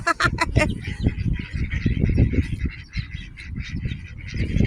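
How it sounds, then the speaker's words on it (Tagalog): A wild duck being fed in New Zealand gives repeated close honking, quacking calls in quick bursts over a low rumbling background. "Wow, that's a duck."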